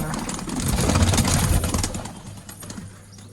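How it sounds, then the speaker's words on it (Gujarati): Pigeons leaving an opened nesting box, wings flapping in a dense flurry of rustling and clattering at close range, faint cooing underneath and a low engine hum in the background. "બાકી કબૂતર ટોટલી બહાર નીકળી જાય છે"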